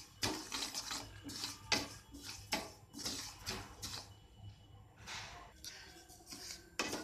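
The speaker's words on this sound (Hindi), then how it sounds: "इसे हमें ड्राई रोस्ट करना है धीमी आँच पर" Sesame seeds dry roasting in a frying pan over low flame, with repeated scraping and clattering of a utensil against the pan, close and fairly faint.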